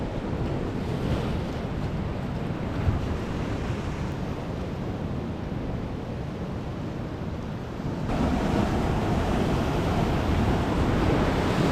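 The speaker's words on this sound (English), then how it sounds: "The waves are a bit much." Ocean waves surging against a rocky beach at a backcountry camping and fishing spot, a continuous loud roar of surf mixed with wind buffeting the microphone, swelling slightly louder in the final few seconds, with no talking.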